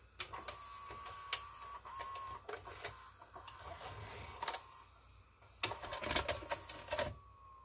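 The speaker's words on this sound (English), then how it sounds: "So I'll show you what it looks like when it ejects here." A JVC HR-S7600U VHS recorder from 2000 ejects a tape, producing close mechanical whirring, clicks and clunks from its cheap plastic mechanism in irregular bursts, with a louder cluster of clatter near the end.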